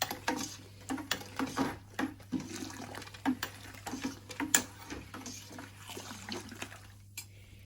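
Malt is stirred into mash water in a Brewzilla 35-litre all-in-one brewing system, with uneven sloshing and scraping of the paddle against the metal vessel over a steady low hum, close and moderately loud throughout.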